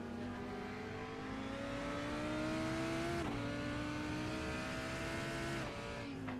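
GT3 race cars, including a Porsche, battling at Indianapolis in a racing game, with a steady loud engine drone rising in pitch through the gears, two upshifts marked by brief dips, and no talk.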